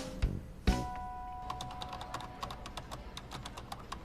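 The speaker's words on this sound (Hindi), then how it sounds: "अरे कीबोर्ड टूट जाएगा।" Fast, forceful typing on a computer keyboard, a steady run of sharp, closely spaced key clicks following two heavier thumps near the start, close and clear with no talk.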